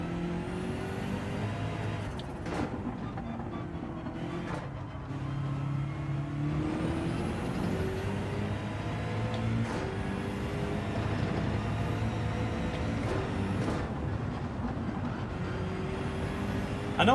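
A race car engine in Gran Turismo 7 revs hard and climbs through gears, its whine rising and dropping repeatedly with shift breaks, loud and steady throughout with no talking.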